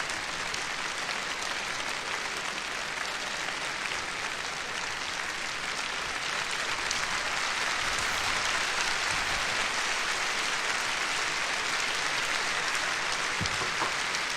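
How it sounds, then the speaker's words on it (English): Sustained audience applause at the Eurovision Song Contest 1979, a dense, steady wash of clapping from a large hall that holds evenly for the full stretch without voices on top. "Big applause."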